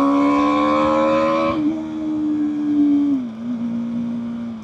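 A 2024 BMW G 310 R motorcycle engine drones steadily while cruising in sixth gear, loud and close, with a brief gear-shift dip early on and a slight drop in pitch near the end.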